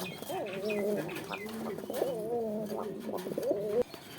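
Black male pigeon cooing up close, several repeated throaty coos in a rolling rhythm, fairly quiet, with faint talk nearby.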